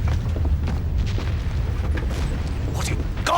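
Distant cannon fire rumbles in low, heavy booms that roll on continuously through the scene, with a voice briefly heard over the deep thunder-like rumble.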